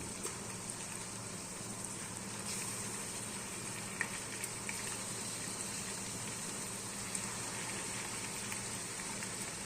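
Large chicken pieces fry in a pan for machboos rice, giving a faint, steady sizzling hiss with a few small pops scattered through it.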